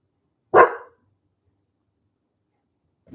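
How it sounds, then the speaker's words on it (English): Chico the dog lets out a single loud, close bark indoors, followed by near silence and a faint brief noise at the very end. "making Chico bark"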